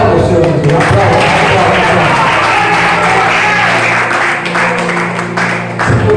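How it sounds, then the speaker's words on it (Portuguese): Church congregation applauding during a Portuguese-language service on the crucifixion, steady dense clapping filling the clip alongside a continuous low musical drone, with a preacher's voice talking over it. "Aplauda o Senhor Jesus. Aplauda."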